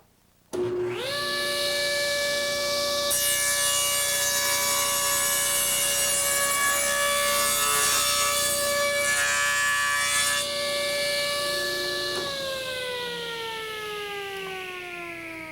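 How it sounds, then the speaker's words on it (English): A power saw on a crosscut jig cutting the cheek of a wooden half-lap joint, starting abruptly and holding a loud, steady high whine with a band of cutting noise, then pitching down as it winds off. "Well, in one pass, I've cut the entire cheek here."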